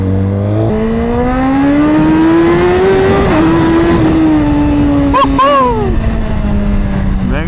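Suzuki GSX-R1000RR sportbike engine riding through traffic, a loud, steady close-up drone that climbs gradually in pitch, with a brief blip and rev change near the end as the bike keeps moving among cars.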